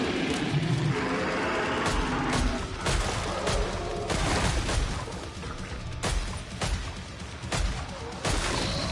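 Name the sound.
explosive bullets firing in video game Killing Floor 3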